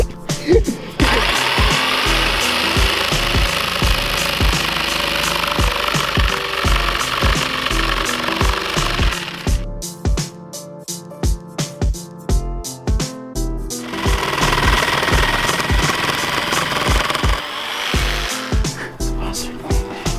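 Power tool grinding and smoothing the edges of a front bumper splitter on a 350Z, loud continuous whirring with rattling bursts and a brief stuttering pause midway, close up.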